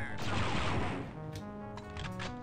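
Concussion rifle fire from Star Wars: Dark Forces, aimed at stormtroopers: a loud, booming blast that rolls out for about a second, then fades into a ringing tonal tail with a few faint crackles.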